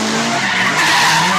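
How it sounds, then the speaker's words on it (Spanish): Car tires skidding during a street race, a loud, sustained screeching squeal of rubber on pavement, close and continuous with the harsh roar of the car underneath. "humos de tubos de escape y ruidos de derrape"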